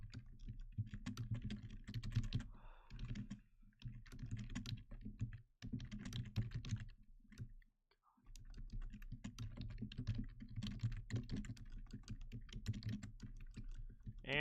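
Fast, steady typing on a computer keyboard, close and quiet, with rapid clattering keystrokes broken by a few short pauses and no voices.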